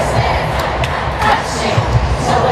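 A stadium crowd of 80,000 cheers at a concert, a loud continuous roar of screams and shouting with swelling waves and scattered thumps throughout.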